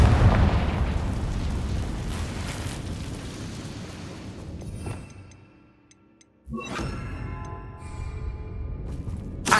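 A Confringo spell explosion in the Hogwarts Legacy video game fires off as loud, dense bursts with a sharp crack and low rumble. The sound then fades to near silence before a second blast hits hard.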